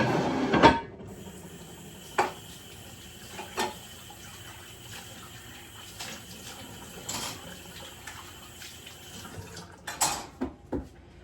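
Items rinsed under a running kitchen tap, a low steady water flow broken by several sharp clinks and knocks of dishes against the sink, close and fairly quiet.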